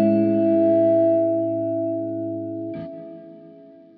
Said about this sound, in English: Next one, Church. Do you want to go to Church? This is an open reverb with a mild shimmer effect.